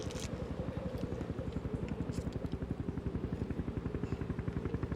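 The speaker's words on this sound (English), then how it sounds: "Do you hear that? What? Helicopter." A helicopter approaches with a steady, rapid rotor chop that thumps evenly and continuously at moderate loudness, with no one talking.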